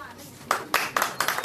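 A few sharp, evenly spaced hand claps ring out at a music company launch event, starting halfway through and sounding close and distinct, like a small group clapping in rhythm, with a faint murmur before them.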